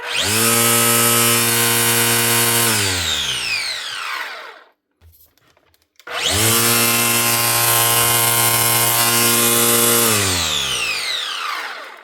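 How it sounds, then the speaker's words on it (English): A Makita DUR181 cordless 18 volt strimmer from 2021, just repaired after having no power and not starting, whines up loudly at the pull of the trigger, spins for a few seconds and winds down, then repeats the same run and spin-down. "the motor starts up every time you pull the trigger"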